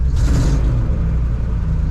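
A 1995 Ford one-ton truck with a 5.8 liter 351 engine running rough with an exhaust leak, a loud steady low rumble close by with no talk.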